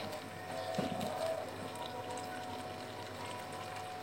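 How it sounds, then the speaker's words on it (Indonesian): Water poured gradually into peanut sauce for batagor, a faint, short pour and liquid trickle early on, fading into quiet kitchen background hum with a steady tone. "Ditambahkan aja airnya sedikit demi sedikit"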